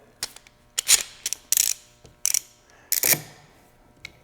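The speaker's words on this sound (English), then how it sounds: "Just tighten that up so it doesn't move." A clamp is cranked tight against a wooden board in a woodshop, giving a series of close, sharp ratcheting clicks and creaks in short bursts with pauses between.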